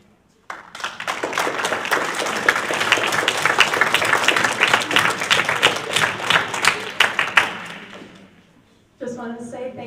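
A meeting audience gives a round of applause for the speakers, with dense, sustained clapping filling the room for about eight seconds before it fades, and a voice speaks right after.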